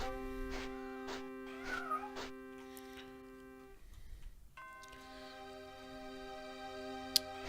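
Several short synthetic cat meows from The Elder Scrolls II: Daggerfall ring out over a sustained electronic tone, followed by a pause and the tone returning.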